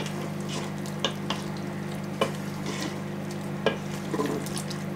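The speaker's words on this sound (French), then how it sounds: "On va mélanger un petit coup." Pineapple pieces being stirred into a simmering sweet-and-sour meatball sauce in a pan, a steady low sizzle with a few soft scraping clicks of the utensil, no talking.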